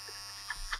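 A steady mechanical hum like an electric shaver buzzes at low volume throughout, with a few faint bumps near the end.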